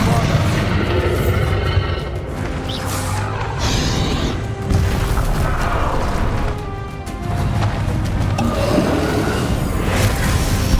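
Bombarda explosion spell cast in Hogwarts Legacy combat, heavy booms and crashes that swell and dip in a loud, continuous battle din, with a voice speaking over it.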